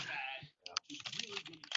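Computer keyboard typing leaking through an open microphone on a conference call, a fast patter of faint, thin key clicks under a murmur of voices.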